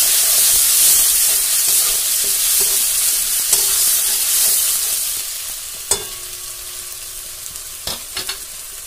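Onion and tomato paste fry in a pan with a loud, steady sizzle up close, and a few sharp spatula clicks and scrapes near the end.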